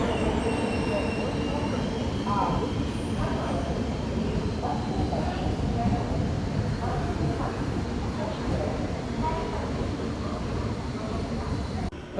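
The Bhimavaram–Machilipatnam MEMU express train running, a loud continuous rumble of wheels on rails heard from inside the carriage, with faint high squeals and a steady roar throughout.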